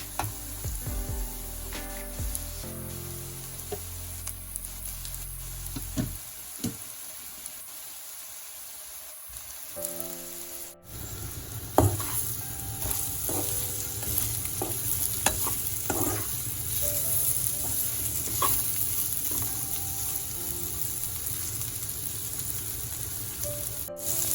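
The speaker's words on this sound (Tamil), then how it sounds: "எல்லாத்தையும் நல்லா கலந்து விட்டுட்டு இந்த பொரிச்செடுத்த வெண்டிக்காயினி நான் சேர்க்க போகிறேன்" Vegetables being stirred in a hot pan, with fried okra added, making a loud, continuous sizzle and frying crackle with repeated scraping strokes, mostly free of talk.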